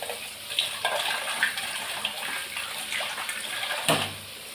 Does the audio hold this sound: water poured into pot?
yes